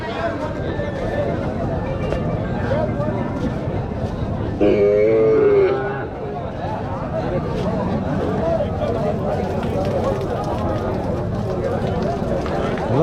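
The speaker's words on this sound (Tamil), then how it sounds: "இந்த பக்கம் இருக்கிறதெல்லாம் வந்து பசுமாடுங்க" Cows and heifers at a crowded livestock market: a long loud moo rises out of a busy din of animals and people, with voices talking throughout.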